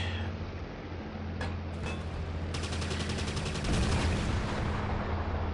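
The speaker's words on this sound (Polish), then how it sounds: "Kurde, strzelają we mnie cały czas." Rapid bursts of aerial combat gunfire in the video game Combat Wings crackle over a steady engine-like drone, with repeated shots clustering into a dense volley toward the end.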